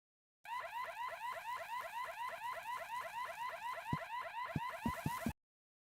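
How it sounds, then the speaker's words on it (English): An alarm sounds in the video game Horace, a rapidly repeating swooping electronic wail like a car alarm, loud and steady for about five seconds, with a few sharp thuds near the end before it cuts off. "but soon an alarm went off."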